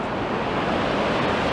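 Sea waves wash and break steadily on the shore near a tower, a dense, continuous roar of surf with some wind rumble on the microphone, heard up close and alone.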